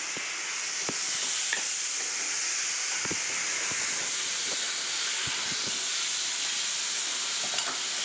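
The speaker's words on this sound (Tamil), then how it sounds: "2 தக்காளி கட் பண்ணி வைத்திருந்தது, பழ தக்காளி 2 போடணும்" Two chopped ripe tomatoes fry in a pan over softened onions, giving a steady close sizzle and hiss with occasional soft stirring clicks and scrapes throughout.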